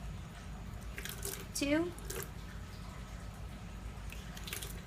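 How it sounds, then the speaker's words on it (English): Water splashes faintly and drips as a small cuvette is rinsed during on-site nitrate testing, with a voice briefly counting over the quiet trickle. "I'm going to rinse out my cuvette 3 times"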